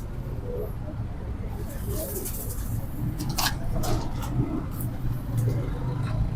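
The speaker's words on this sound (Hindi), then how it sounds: "ये शर्मीले कबूतरों में से ये है।" Shy pigeons of the Sialkot breed coo softly in low repeated murmurs, with other bird calls and faint background noise around them and voices nearby.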